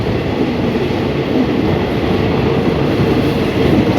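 Diesel passenger train 262 at Hua Hin station, a steady loud rumble of rolling railcars with faint clickety-clack from the wheels and no break.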